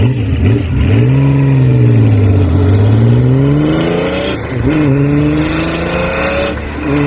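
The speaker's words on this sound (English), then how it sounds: "the legend of the Benelli Se 750, the motorcycle that turned engineering into music" A Benelli Sei 750 six-cylinder motorcycle engine revs loudly up and down, its smooth multi-cylinder wail rising and falling continuously and close by, with no voices.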